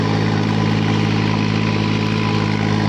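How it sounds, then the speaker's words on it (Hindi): A 3630 tractor engine idles steadily up close, a continuous loud, chugging rumble with no other sounds. "आवाज सुनो भाइयों एक बार ट्रैक्टर की"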